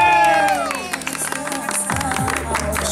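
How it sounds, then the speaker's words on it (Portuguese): Guests at a birthday party for a wife named Keila break into clapping and cheering. Dense, busy applause builds after a voice at the start, and a low tune sounds beneath it. "Uma salva de palmas,"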